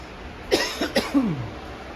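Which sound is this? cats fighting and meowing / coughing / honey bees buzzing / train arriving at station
coughing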